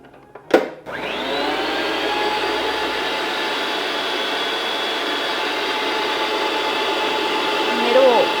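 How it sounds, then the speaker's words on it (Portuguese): A stand mixer beats coconut cake batter at maximum speed, giving a loud, steady motor whine after a brief click on, with no letup for several seconds. "Enquanto ele vai batendo na velocidade máxima. Então, eu ligo na minha batedeira"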